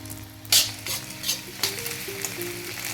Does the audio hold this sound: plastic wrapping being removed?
no